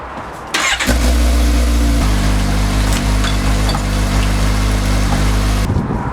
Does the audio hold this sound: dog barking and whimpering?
no